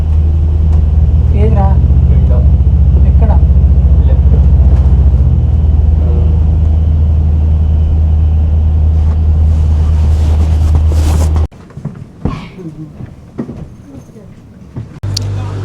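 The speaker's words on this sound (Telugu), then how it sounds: "ఎక్కేసిన బస్సు." Engine rumble inside a bus heading home after the last college day of the semester, a loud steady low drone with wind buffeting and people talking over it, cutting abruptly to quieter voices near the end.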